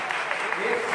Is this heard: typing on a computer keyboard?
no